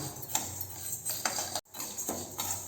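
Raw rice and moong dal dry-roasting in a pan, heard as a few sharp metal scrapes and clinks of a ladle stirring the grains, quiet between strokes.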